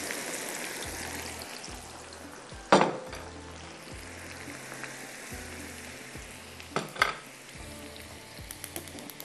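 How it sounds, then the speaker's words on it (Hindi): Okra fries in oil for a Hyderabadi bhindi dish as a soft, steady bubbling sizzle with two loud clattering scrapes partway through and a faint low hum pulsing underneath, with no speech. "हमारे पास ऑयल जो है इसमें भिंडी डाल देती हूँ ताकि आराम से भिंडी फ्राई होती रहे।"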